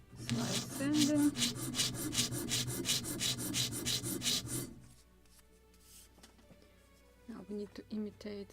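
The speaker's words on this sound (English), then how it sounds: "Slide sanding." Steady back-and-forth strokes of sandpaper rasp against a clamped wooden plank for a model ship in a quick even rhythm, then stop, leaving quieter scraping and a few later rubs.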